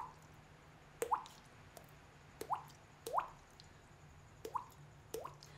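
A human voice imitates a dripping faucet with mouth clicks and plops, about six evenly spaced wet drops, quiet and close with silence between them.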